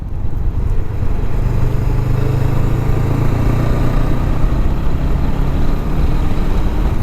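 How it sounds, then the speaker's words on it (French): A Honda Rebel 500 cruiser motorcycle slows under engine braking after a downshift, its engine giving a loud, continuous, throbbing rumble heard close up and without talk. "On redescend de rapport."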